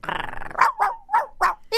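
A small dog growls low, then lets out four or five sharp, close barks in quick succession, loud and clear.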